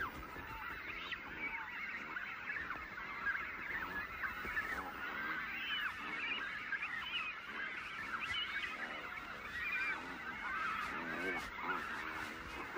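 An imperial cormorant colony on the Patagonian shore in midsummer, a dense chorus of overlapping honking and croaking calls from many birds, continuous and fairly distant.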